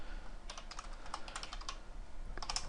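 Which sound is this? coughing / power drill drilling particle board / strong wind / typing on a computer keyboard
typing on a computer keyboard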